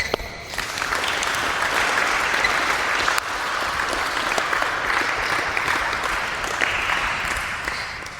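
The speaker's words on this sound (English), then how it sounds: "Clap for him." A burst of loud, dense clapping from a group carries on steadily for several seconds before tapering off slightly.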